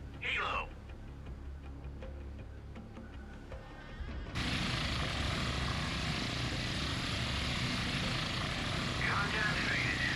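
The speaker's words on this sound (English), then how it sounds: "And there is the stubby little KA-25." Kamov Ka-25 helicopter in the naval combat game Sea Power: a sudden, steady broadband rotor and engine roar cuts in partway through and holds loud to the end, following a quieter stretch with a brief voice.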